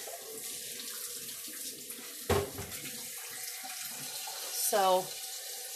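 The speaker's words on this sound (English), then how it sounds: "let me run some cold water on what's going on in my sink over here" Cold water runs from a kitchen sink tap in a steady, moderately quiet stream, with a couple of brief louder splashes and clatters and a short spoken word over it.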